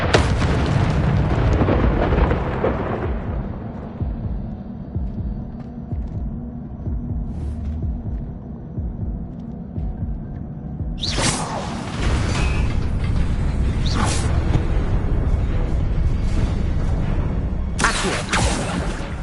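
The Incendio fire spell in the Hogwarts Legacy video game comes as deep rumbling, booming bursts of flame. A heavy blast at the start fades into a low throb, and two more loud whooshing surges follow later.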